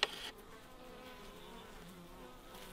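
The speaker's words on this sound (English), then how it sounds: "It's really windy and the bees do not like wind very much." Honey bees buzz around a hive on a windy day in Alaska, a faint steady drone under soft wind noise, opening with a brief sharp click and with no talking.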